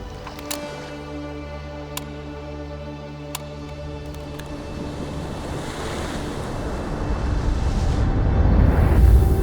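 Ocean surf swells and crashes close by, building steadily louder with rushing wind noise on the microphone, while a few faint tones sound early on.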